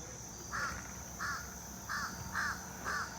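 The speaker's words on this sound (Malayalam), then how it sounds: "ഒരു അമേരിക്കൻ കാക്ക ഇരുന്ന് കരയുന്നു." An American crow caws five times in a spaced, steady series at Maramec Spring park, each call harsh and fairly distant over quiet outdoor background.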